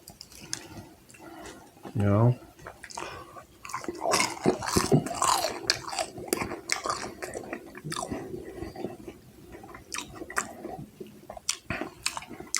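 Arby's curly fries and sandwiches get chewed close to the mouth, with soft crunches and wet squishing, and a person talks over much of the chewing.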